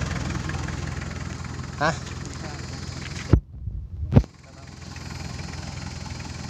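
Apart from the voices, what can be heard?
Toyota 1KZ diesel engine starting and idling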